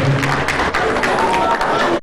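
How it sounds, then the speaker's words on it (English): An audience at a live televised event applauds in a dense burst of clapping that lasts about two seconds and cuts off sharply. "Please can we have a round of applause for her?"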